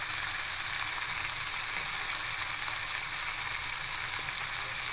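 Potatoes and vegetable stalks fry in a hot pan for a vegetarian greens stir-fry, giving a steady, close, even sizzle that holds at one level throughout with no voices.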